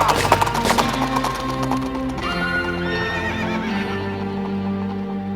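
A horse gives a loud, drawn-out neigh over brisk clip-clopping hooves near the start, with the whinny trailing off as the steady hoofbeats continue.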